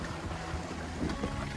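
A sailing yacht surfs down waves at sea just off Hastings, giving a steady, broad roar of rushing water and wind buffeting the microphone, loud and continuous with slight swells, with no talk.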